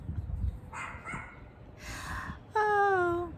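Small dogs bark in short, sharp yips nearby, then let out a sustained, drawn-out howling whine at the end, over a low outdoor rumble.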